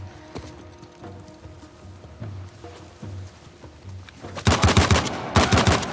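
Gunfire in the video game Uncharted: The Lost Legacy, rapid automatic bursts cracking out loudly near the end after a quieter stretch of distant scattered shots and footsteps.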